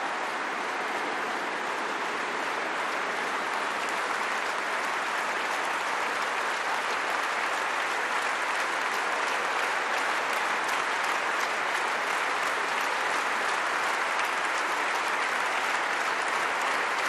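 Sustained, dense applause fills a large hall at a Socialist Party congress in Poitiers, a steady loud roar of many hands clapping without a break from start to finish.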